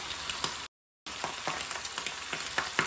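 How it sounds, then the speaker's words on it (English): Butter sizzles and crackles in a hot pan, a steady bright hiss with small pops, briefly cut to silence partway through. "So we're cooking in butter"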